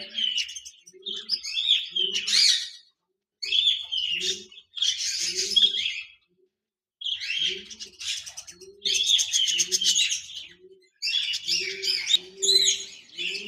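Caged budgerigars, including Japanese budgies, chirp and tweet in busy, overlapping bursts with short pauses, while soft low coos sound underneath throughout.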